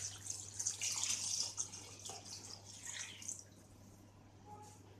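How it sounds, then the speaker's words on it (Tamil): Water is poured into a village-style country chicken gravy in the pot, a splashing pour for about three seconds that then thins and fades. "தண்ணி எக்ஸ்ட்ராவே ஆட் பண்ணிக்கலாம்."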